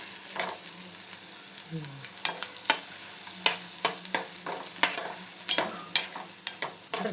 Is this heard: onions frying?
yes